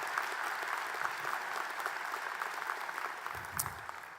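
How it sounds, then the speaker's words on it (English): Steady, fairly faint applause from a nursing and health professions graduation audience honoring graduates' families, continuous throughout without a break. "Let's give the families a round of applause."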